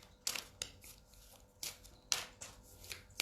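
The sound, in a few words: shuffling oracle cards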